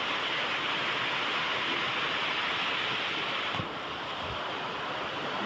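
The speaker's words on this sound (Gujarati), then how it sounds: "જો વરસાદનો અવાજ આવે છે" Steady rain falls close by, a dense, unbroken hiss that holds evenly throughout with no voices.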